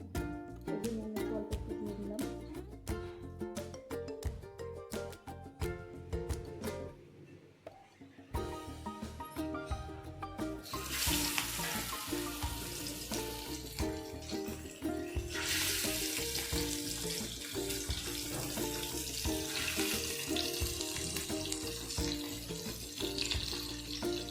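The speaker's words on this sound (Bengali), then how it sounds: "চিংড়িটাকে একটু নুন মাখিয়ে আর একটু নুন হলদি মাখিয়ে আমি একটু ভালো করে ভেজে নেব" Prawns coated in salt and turmeric fry in a pan, a continuous sizzle that runs throughout with occasional stirring clatter and a brief drop in level partway through.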